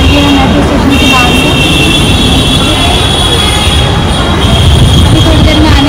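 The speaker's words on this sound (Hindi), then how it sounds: "मेट्रो स्टेशन के अंदर आ चुके हैं और अब जा रहे हैं मेट्रो वाली स्टेशन।" Inside a Delhi metro station, a train rumbles loudly and steadily, with high metallic wheel squeal ringing above a dense, continuous roar.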